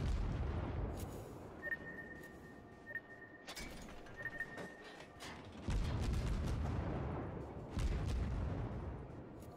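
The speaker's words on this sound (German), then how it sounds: "wenn sie mal die Kanonenschüsse rauspratzelt, dann ist das Wahnsinn, was da wegfliegt" Heavy booming salvos ring out from the guns of the St. Louis cruiser in the naval battle game World of Warships, repeating several times over steady battle noise with no speech.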